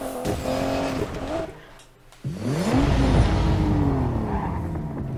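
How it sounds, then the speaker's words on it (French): A car in the Need for Speed Payback racing game revs its engine and squeals its tires as they heat up, a rising whine swooping after a brief lull, loud and close with no voices. "Je fais chauffer les pneus."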